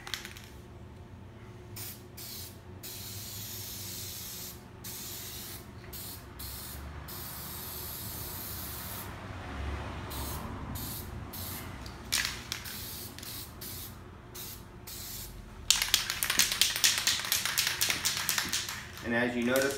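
Spray coil protection being applied to an outdoor AC condenser coil near the coast, a steady hissing spray running through the clip with brief pauses, growing louder and more crackly toward the end, under a voice.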